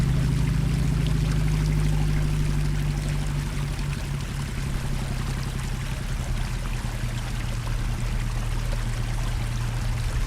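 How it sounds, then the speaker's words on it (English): Steady rushing water around a ship in the Professional Ship Simulator game, a continuous loud wash with low engine hum underneath, unbroken throughout. "This is a nice water sound."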